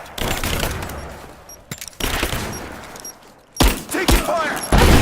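Gunfire in the video game Rise of the Tomb Raider: loud bursts of rapid automatic shots come in clusters separated by brief lulls, with shouted voices mixed in.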